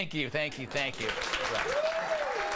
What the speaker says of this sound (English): Continue with your applause until you're exhausted.